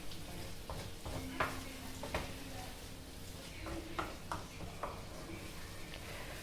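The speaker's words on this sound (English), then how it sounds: "You want to break them up, you want to mix them around, you want to make sure it gets everywhere in that rice" Spatula stirring scrambled eggs through egg fried rice in a hot pan, with soft repeated scraping and clinks over a steady background sizzle at close range.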